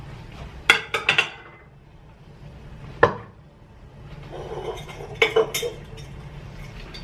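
Sliced red onions drop into a jar of brine and cucumbers for beer pickles, giving a few sharp glassy clinks and knocks in two short clusters and one single tap, close and fairly quiet, with no talking.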